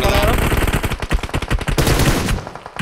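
Rapid automatic gunfire from a BGMI match, dense loud bursts of shots firing continuously close up, with faint voices talking underneath.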